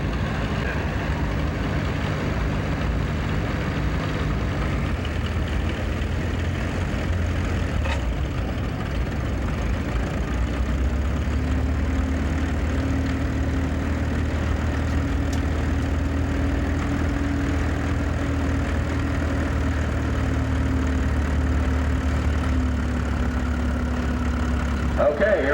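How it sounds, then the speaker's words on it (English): A 1937 Minneapolis Moline Z tractor running at a steam tractor show, a steady low engine drone that holds throughout at close range, with a slight change in pitch partway through and an announcer talking over it. "It's a 37Z Minneapolis Moline, the featured tractor here at the Steam Tractors this year."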